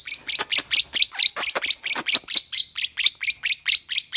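A bird chirps in a rapid, even series of bright, sharp notes, several per second and close by, with no other sound around them.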